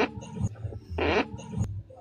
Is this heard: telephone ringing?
no